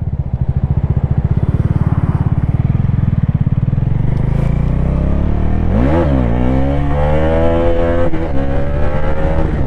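A Bajaj Dominar 400 motorcycle, an E20 BS7 model, idles loudly and close with a rough thumping beat. Its revs then climb sharply in a rising whine for a wheelie and hold high, with no speech.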